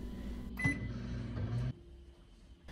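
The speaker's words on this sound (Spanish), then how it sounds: "Llévala al microondas por unos 40 segundos" A microwave oven runs while heating toothpaste, its steady low hum filling the first stretch before stopping, followed by a quieter room tone and a faint click near the end.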